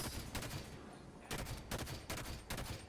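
Gunfire from the video game Halo 5: Guardians comes in several short, dense bursts of rapid automatic shots separated by brief pauses. The fire sounds close and punchy, with no speech.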